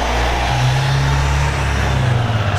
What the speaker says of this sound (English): Oh, cars just arrived.